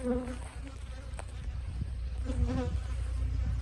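A bee swarm buzzing inside a cardboard box at an apiary, a dense, continuous droning hum with individual bees' pitches rising and falling close by.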